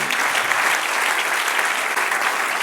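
Church congregation applauding during a sermon: a dense, even roar of many hands clapping for under three seconds, loud and close, with no clear talk.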